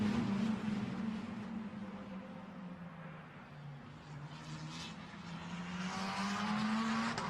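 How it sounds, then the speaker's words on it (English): A Formula Renault Eurocup single-seater at the Nürburgring powers downhill, its engine a loud, steady high-revving drone with rising pitch toward the end, heard alone without voices. "Lorenzo Colombo powering his way downhill"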